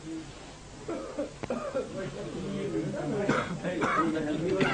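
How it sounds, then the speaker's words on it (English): A few rough, rasping coughs break through a quiet room, with low murmuring voices in the background. "Only rasping coughs break the peaceful silence."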